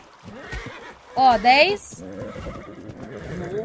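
A horse in the ARK survival game lets out a loud, quavering whinny in the middle of the clip, with speech before and after it.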